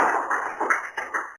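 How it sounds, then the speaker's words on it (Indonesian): Brief applause from a classroom of students for a classmate: a short burst of several hands clapping at once, close and moderately loud, stopping abruptly after about a second. "tepuk tangan dulu untuk Ode"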